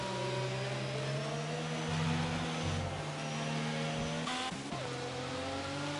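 Race cars in a sim racing game on the Singapore circuit drone under throttle, their engine note steady with slight pitch shifts as they pull out of corners.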